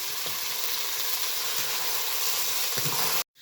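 Semolina and vegetable batter hits hot tempering oil in a pan and sizzles loudly and steadily for about three seconds, with a few stirring clicks, before cutting off abruptly.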